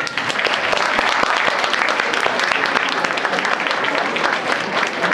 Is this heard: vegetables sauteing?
no